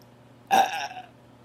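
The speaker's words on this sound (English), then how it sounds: "Why you burping?" A single loud, close burp with a sharp onset, lasting about a third of a second before trailing off, with no speech over it.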